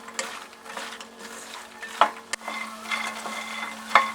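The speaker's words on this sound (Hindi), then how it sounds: "तो इसको इस तरह से रेगुलर चलाते हुए हम मीडियम फ्लेम पर फ्राई कर लेंगे क्रिस्पी होने तक" Makhana (fox nuts) frying in ghee over a medium flame, stirred steadily with a spoon: a continuous soft sizzle broken by a few sharp scrapes and clinks against the pan, close up and without any talk.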